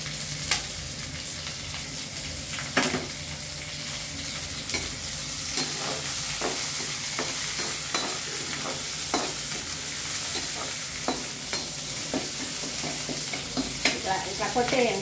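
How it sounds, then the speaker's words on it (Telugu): Onions and green chilies fry in a hot pan with a steady, close sizzle, punctuated by sharp scrapes and knocks of a spatula stirring them throughout. "తర్వాత ఇదిగో ఉల్లిపాయ వేస్తున్నానండి. ఉల్లిపాయ పచ్చిమిరపాయ."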